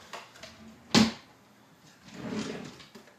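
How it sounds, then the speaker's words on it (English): A drawer on an arcade cabinet housing SNES and NES consoles slams shut in one sharp, loud knock, followed by a quieter rustle of handling. "Shut the drawer."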